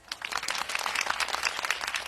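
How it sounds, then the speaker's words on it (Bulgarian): Applause at a school's first-day opening ceremony, with a crowd of students, teachers and parents clapping. It is a dense, lively patter of many hands, moderately close, steady for a couple of seconds. "Аплодисменти за вас"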